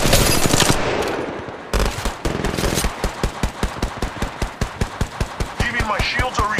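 Rapid automatic gunfire in the video game Apex Legends, a loud sustained stream of evenly spaced shots that pauses briefly and then resumes as a steady rattling burst, with some game sounds layered in.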